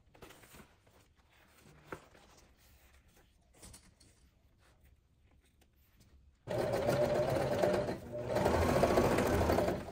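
A sewing machine stitches a two-tone nylon bag, quiet handling at first, then a loud steady run of motor and needle that pauses briefly and resumes for several seconds.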